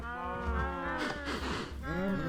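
A blocky cow in Minecraft moos in long, drawn-out calls, with a couple of overlapping lows close by and loud.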